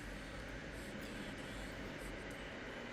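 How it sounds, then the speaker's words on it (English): A train passes nearby, a steady broadband rumble and rush with no breaks, moderately faint and heard alone without voices. "Dang it, the train."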